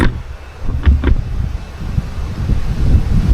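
Gusty outdoor wind buffets the microphone while laundry is hung out, a steady low rumble of rushing air that swells and dips, with a couple of brief higher sounds early on and no voices.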